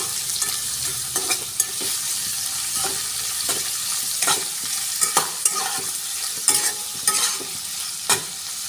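Steady sizzling of large prawns frying in hot oil, with intermittent sharp scraping and stirring clatters from a utensil in the pan.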